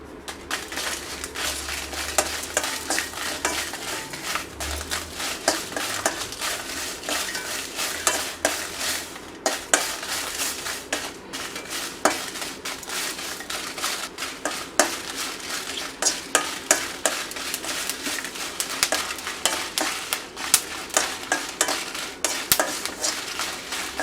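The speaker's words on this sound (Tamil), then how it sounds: "இப்போ வந்து வத்தலை நல்லா வறுத்து எடுக்க போகிறோம்" Sun-dried vathal dry-roasting in a pan for homemade sambar powder, with a continuous close rattle and scrape of constant stirring over a faint sizzle, and no one speaking.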